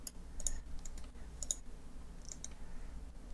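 Faint, sparse clicks of a computer mouse, a few sharp single and double clicks spread over a few seconds against a low background hum.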